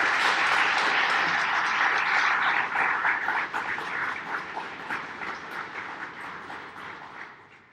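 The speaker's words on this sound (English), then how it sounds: "would you please give the Academy staff and instructors a round of applause" Audience applause for academy staff and instructors at a police academy graduation ceremony, loud sustained clapping from a large crowd in a hall that gradually fades.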